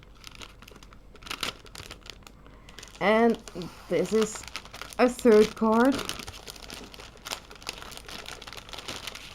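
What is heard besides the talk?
crinkling paper packaging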